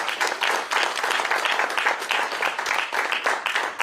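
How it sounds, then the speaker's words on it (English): Audience at a Scottish Labour political rally cheering and applauding steadily, dense continuous clapping mixed with cheers throughout, loud and sustained with no speech over it. "So a big cheer for Jackie Baillie, please"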